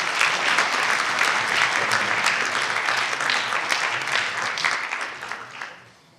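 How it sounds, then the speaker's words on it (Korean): An audience at a business entrepreneurship concert gives a loud, crowded round of applause that holds strong for several seconds, then thins and fades out at the end. "박수 부탁드리겠습니다"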